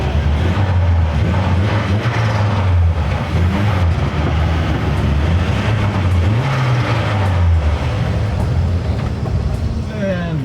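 An MK1 Volkswagen Golf with a swapped 1.8T turbo engine revs loudly up close, its rising and falling engine note holding steady throughout with broadband rumble and no voices over it.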